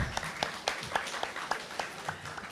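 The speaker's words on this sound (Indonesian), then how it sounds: "Luar biasa, tepuk tangan dulu" Scattered claps from a seminar audience, uneven and fairly faint, with a murmur of voices underneath.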